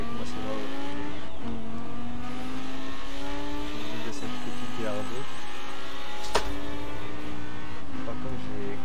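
A car engine in the video game Forza Horizon 4 hums and revs continuously, pitch rising and dipping with gear shifts and throttle, loud and close throughout, with occasional sharp clicks and people talking over it.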